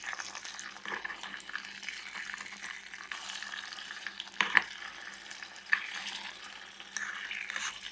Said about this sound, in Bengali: এখন মশলার সাথে বড়াইটা খুব সুন্দরভাবে মিক্সড করে নিতে হবে।